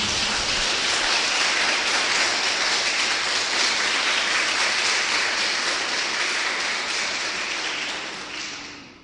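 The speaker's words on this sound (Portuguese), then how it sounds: "Dê uma salva de palmas para ele, amém?" A church congregation at a Wednesday service in Mauá breaks into loud, dense applause, many hands clapping in a sustained roar that holds steady for about eight seconds before tapering off at the end.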